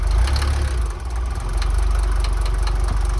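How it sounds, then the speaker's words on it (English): A Mercedes T1 310D van's diesel engine idles close up, a loud, steady low rumble with a regular knocking clatter running through it and no voices. "Listen to that beautiful engine."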